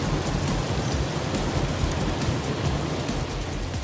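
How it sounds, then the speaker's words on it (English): Steady rain pours outdoors at Brauning Lake during a redfish fishing trip, a dense, even hiss of drops on water and surfaces that stays loud and unbroken throughout. "Michael's out there looking for it in the rain, nice and wet"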